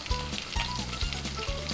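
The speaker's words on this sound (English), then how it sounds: "Just going to put my fish right in." Rainbow trout laid into a hot pan, a close, quiet sizzle with a few rhythmic low thumps and scraping touches over a short stretch, with no talking.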